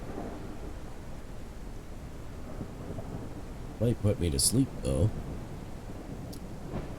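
Thunderstorm ambience in a factory-building video game, with steady rain and wind hiss and a short stretch of rumbling thunder partway through, while someone talks over it.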